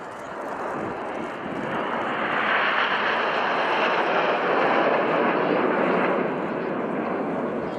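Aircraft flying in formation over RIAT Fairford at an international airshow, a loud broad engine roar that swells and holds as the jets pass overhead.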